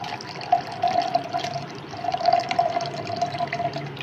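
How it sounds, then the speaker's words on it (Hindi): Cold water pours into a grinder jar of curd for homemade butter, a steady trickling splash with a faint ringing tone, running for a few seconds with a brief break midway. "ठंडा पानी डाल रहा हूँ।"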